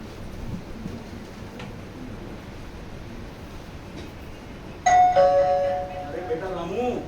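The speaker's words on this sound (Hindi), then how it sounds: "अरे देख तो सही, घंटी बज रही है, देख जरा कौन आया।" Doorbell ringing during a theatre play, a single loud ding-dong chime cutting in suddenly after a stretch of quiet talk and ringing out for about two seconds.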